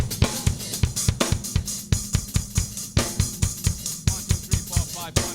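A drum kit at a drum festival plays a rapid pattern grouped in fives, with sharp, loud, evenly spaced hits on kick and snare and a wash of cymbals over the top.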